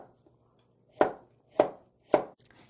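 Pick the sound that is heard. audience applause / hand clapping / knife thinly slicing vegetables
knife thinly slicing vegetables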